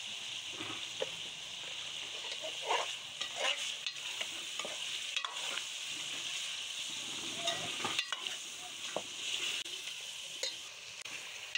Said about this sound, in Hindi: अच्छी तरह से फ्राई करेंगे घी में चिकन को।